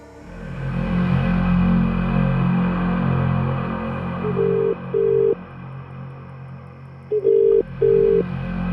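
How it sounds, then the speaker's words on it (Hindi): A telephone rings unanswered, heard as a ringback tone: two short double-pulse rings a few seconds apart over a low electrical hum, with no voices. "हिना अभी भी फोन नहीं उठा रही है यार"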